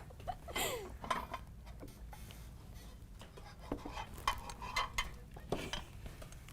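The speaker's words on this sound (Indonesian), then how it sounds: "Oke, gua ambil piring dulu bentar ya." Dishes and cutlery clatter and clink in irregular bursts as a plate is fetched, with scattered sharp knocks over a steady background hum.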